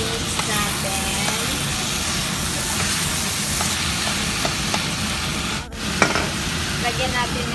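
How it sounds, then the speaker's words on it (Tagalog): Ground pork with potatoes and carrots sizzles and hisses in a pan as it is stirred, a steady close frying noise with occasional scraping clinks. "Lagyan na natin ang ating patatas at saka carrots. Mix natin."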